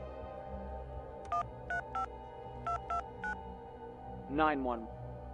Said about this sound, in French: I need to call the police and report him right now.